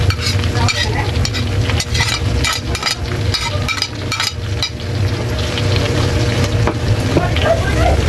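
Garlic and pork fat fry in a pan with a steady, loud sizzle and crackle, while a utensil stirs and scrapes intermittently throughout; for sweet and spicy bagoong.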